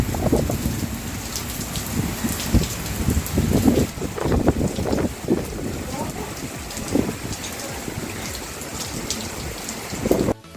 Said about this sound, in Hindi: यहाँ पे बारिश शुरू भी हो गई। और बारिश के साथ साथ तेज़ हवा भी चल रही है।